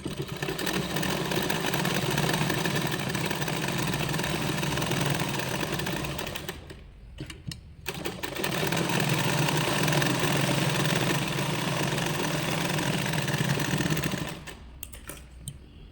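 A sewing machine stitches a blouse in long continuous runs of rapid mechanical chatter, close and steady, with a brief pause in the middle and a stop near the end.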